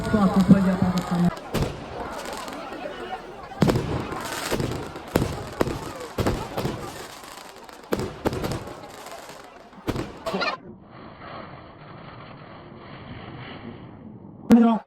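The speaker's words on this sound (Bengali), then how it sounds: "সমস্ত আতশবাজি আপনাদের সামনে" A Champahati fireworks display goes off in a rapid string of sharp bangs and crackling bursts, some stacked close together. A brief lull with a lingering tone follows, then one last loud burst.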